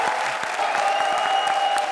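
A brief burst of enthusiastic applause from an audience, dense steady clapping with no voices.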